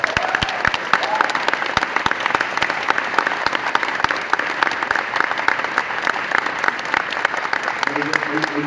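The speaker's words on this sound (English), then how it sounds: "round of applause for Roddy Piper" A wrestling fan Q&A audience in London breaks into loud, continuous applause honoring Roddy Piper, with crisp individual claps standing out from the crowd and faint chatter underneath.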